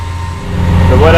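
Tractor engine running on a melon farm, a loud, steady low idling hum filling the short moment, with a voice starting over it at the end.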